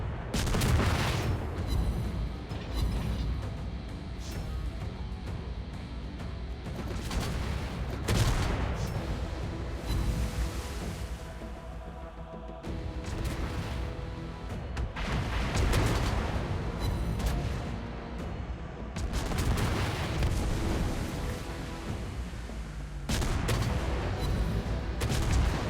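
Naval guns of the Tier 9 destroyer Paolo Emilio fire at an enemy ship in World of Warships Blitz, loud booming salvos that come in clusters with rumbling pauses between volleys.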